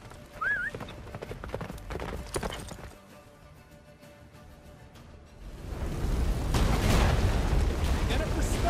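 Geralt's horse Roach gallops through the Battle of Kaer Morhen in The Witcher 3, with rapid hoofbeats, a whinny early on, and a heavy, swelling roar of battle and blizzard building in the second half.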